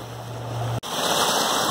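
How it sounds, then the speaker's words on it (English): Loud, steady roar of Lake Superior surf breaking along a rocky shore, continuous and close. A short dropout breaks it midway. "I don't know if you can hear me with this microphone and all the loud waves"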